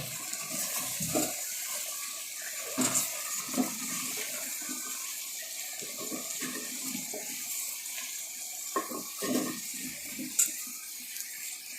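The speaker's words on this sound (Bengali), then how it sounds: "ভালোভাবে মাংসটা নেড়ে দেবো তারপরে আবার ঢাকা দিয়ে দেবো" Chicken meat with potatoes and released juices is stirred in a clay pot, giving quiet, intermittent wet sloshing and scraping strokes separated by short pauses.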